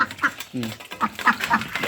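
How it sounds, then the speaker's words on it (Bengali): Ducks quack at feeding time, several short nasal calls in quick succession at close range, with a brief lower honking call in the middle. "এই সময় খাবার দেওয়া হয় তো ঠিক এই সময় হাঁস আসে"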